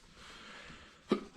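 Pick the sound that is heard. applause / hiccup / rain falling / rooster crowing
hiccup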